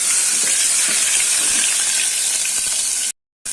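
Ginger garlic paste hits hot oil with spices in a cooking pot, giving a steady, loud hiss and sizzle that runs continuously before cutting off abruptly near the end.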